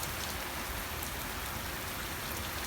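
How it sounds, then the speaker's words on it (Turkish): Heavy rain falling, a dense and unbroken hiss of drops on surfaces that stays loud and even throughout. "Şu an yağmur tam görünmüyor arkadaşlar ama bayağı bir şiddetli sayılır."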